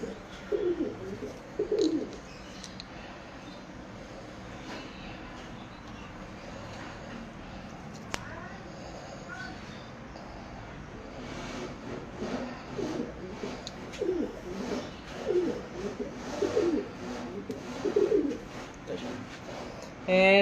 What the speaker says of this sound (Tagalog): Last bird, ito nga pala si Chocho